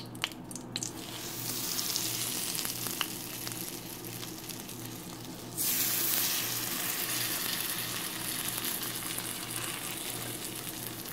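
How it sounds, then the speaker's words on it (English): Regular butter and oil crackle and sizzle steadily in a pan, ready for pan-frying Alaskan cod, the frying growing a little louder midway and staying close throughout. "My oil, my butter already fried."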